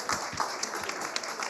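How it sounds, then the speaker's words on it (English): A brief burst of audience applause fills a networking reception on feminist action for climate justice, with many hands clapping loosely and fairly loud for under two seconds. "Give yourselves a round of applause."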